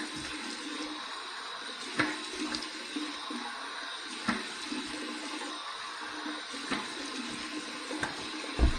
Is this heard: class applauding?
no